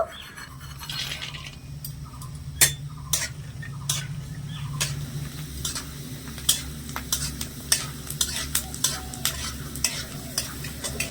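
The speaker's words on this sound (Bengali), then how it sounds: "এবার এই বাদামটা আমি একটু ভেজে নেব" Peanuts frying in hot oil, giving a gentle low sizzle under rhythmic taps and scrapes of a spoon stirring them in the pan, close and steady, with no talking.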